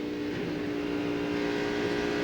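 NASCAR stock cars roar around the track during the 2002 MBNA 500 at Dover, a steady, loud, droning engine howl that stays constant throughout.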